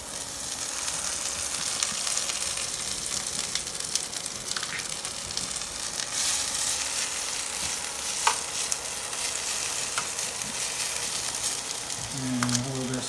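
Turnip hash browns mixed with chopped spinach sizzle in a hot frying pan, a steady close hiss of frying that runs throughout, with a brief stirring scrape near the end.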